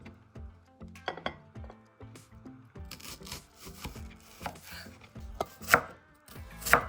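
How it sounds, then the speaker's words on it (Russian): A knife slices a quarter of a red onion into rings, with a series of crisp, close chops in uneven rhythm and a few bright clinks of the blade toward the end, with no talking. "Режем четверть кольцами."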